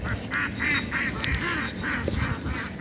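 Domestic geese give a run of repeated nasal honks in a fairly even rhythm, several calls overlapping at moderate distance over a low background rumble.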